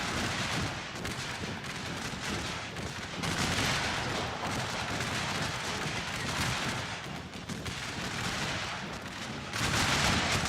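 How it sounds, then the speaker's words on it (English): Musket volleys and artillery fire rolling through a Shogun 2 video game battle, a dense, continuous crackle of gunfire with booming surges, loud and sustained throughout. "Withering volleys of fire"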